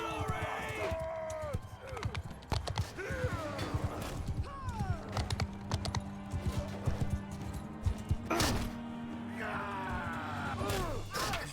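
Horse hooves clip-clop in Mount & Blade 2: Bannerlord, a running rhythm of repeated thuds with occasional whinnies, game music tones and someone talking over it.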